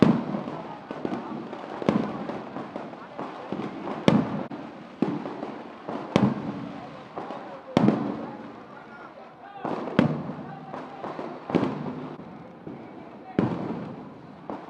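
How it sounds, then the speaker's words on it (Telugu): Firecrackers bursting at an outdoor ground gathering, a rapid irregular run of sharp cracks and bangs throughout, some louder and nearer, over a noisy crowd with voices talking. "టపాసులు కాల్చే మిత్రులారా"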